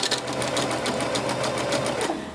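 A sewing machine runs in a fast, steady burst of rapid needle strokes while stitching a small piece of fabric for a doll's wedding dress, close and continuous with no voices.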